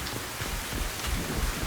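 Steady, dense rainfall in Mass Effect Legendary Edition pours down continuously at an even moderate level, a close wash of drops with no talk over it.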